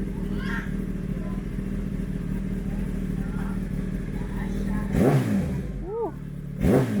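A stage 2+ Volkswagen Golf R with a misfire idles with a low engine rumble, then gives a couple of sharp revs near the end, while someone talks over it.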